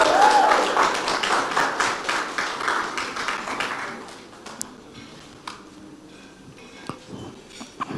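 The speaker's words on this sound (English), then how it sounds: "I would like the audience to give a round of applause to Mahandri." An audience applauds a speaker at a health and climate hacklab event, loud dense clapping for about four seconds that thins to scattered claps and tapping before dying away.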